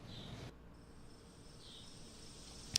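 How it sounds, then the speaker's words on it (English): Crickets chirp in a faint, steady background ambience, a thin continuous trill with brief louder chirps near the end. "Crickets?"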